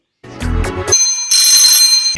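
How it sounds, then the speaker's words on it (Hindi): A telephone rings on a Hindi-language radio phone-in program about a cleanliness campaign, a loud electronic bell-like ring of about two seconds with no talk over it. "फ़ोन की घनघनाती हुई घंटियां ये कह रही हैं कि जल्दी से हमें फ़ोन उठाना है"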